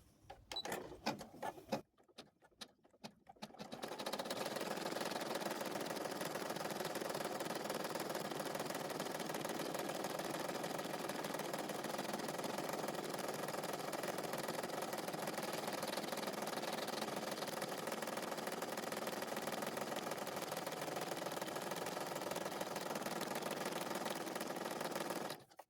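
A sewing machine stitches felt hair fabric onto a cloth doll, a steady, fast mechanical whir running continuously after a few brief handling noises at the start.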